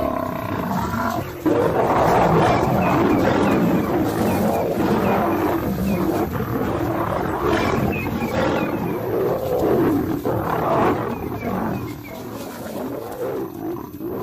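Lions roar and grunt loudly while defending their cubs at night in the wild, a sustained, close chorus of deep rumbling roars and growls continuing throughout with no talk.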